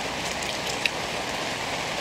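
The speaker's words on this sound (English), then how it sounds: "Here comes the rain again." Steady rain falls outdoors as an even, hissing wash with one small patter tick partway through, and no voices over it.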